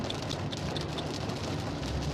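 Heavy rain pours onto a highway, SLEX southbound, as a typhoon approaches. The downpour is a dense, steady hiss with a low road rumble underneath, and no one speaks.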